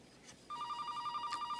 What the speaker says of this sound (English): Keith, it's Donna on the phone.